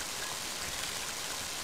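Heavy rain in the video game Mother 3: a steady, dense hiss of downpour, loud and unbroken throughout with no voices.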